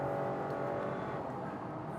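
A 2021 Acura TLX Advance with SH-AWD cornering at about 80 on a canyon road, giving a steady, loud drone of engine and road noise with a constant hum, heard from inside the car, no talk.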